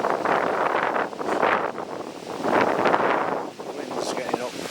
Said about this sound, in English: wind's getting up a bit rough